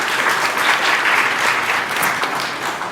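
Strong, continuous audience applause at a Motorola press conference during the 3GSM event, a dense wash of many hands clapping close and steady for the whole stretch.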